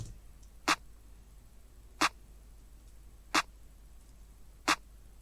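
Four sharp, evenly spaced programmed claps from a basic drum pattern in FL Studio repeat about once every one and a third seconds over a quiet background hum.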